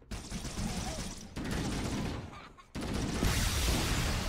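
Needler rounds detonate in Halo: Combat Evolved with a loud crackling burst of explosions and gunfire, in waves that surge, drop off and swell again over several seconds.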